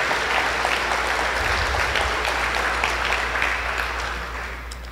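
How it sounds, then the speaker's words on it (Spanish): Dense, sustained applause from a large audience at a business event in Lima, steady and loud throughout and tapering slightly toward the end. "Un aplauso, por favor, para Juan Carlos Cisneros."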